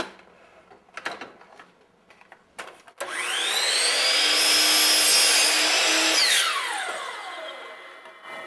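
A power saw cutting wainscoting molding spins up with a loud, steady high whine, holds for about three seconds, then winds down, after a few faint workshop knocks.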